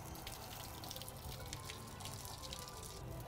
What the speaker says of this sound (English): So you're gonna go ahead and let that drain.